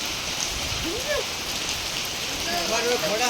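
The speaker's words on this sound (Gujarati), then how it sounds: "કેવો વરસાદ છે પૂરા વરસાદ" Steady, dense rain hisses on surfaces throughout, with faint voices murmuring underneath.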